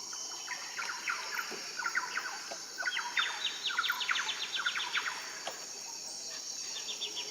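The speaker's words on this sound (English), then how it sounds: "We can hear a woodpecker somewhere in the distance." A woodpecker calls in quick chattering bursts from somewhere distant, over a constant buzz of insects in dense Amazon rainforest in Ecuador's Cuyabeno Reserve.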